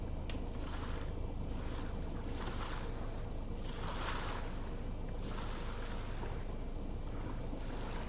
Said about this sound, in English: Точнее, плывем. Мы булькаем в направлении начала.